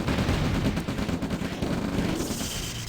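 Heavy tanks trading fire in a Red Alert 2 match, a dense, loud barrage of rapid booming shots and impacts rolling continuously with no pause.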